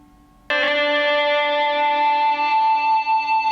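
Electric guitar driven by an EBow switched to harmonic mode: after a brief quiet lead-in, a sustained tone swells in abruptly, bright and overtone-heavy with a slight wavering shimmer, holding steady and loud for about three seconds.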